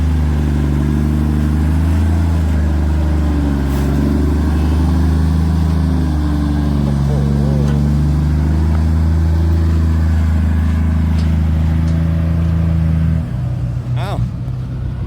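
A Fuso 380 ten-wheel dump truck's big 6M70 diesel engine runs loud and close with a deep, steady rumble, its revs wavering before dropping off near the end.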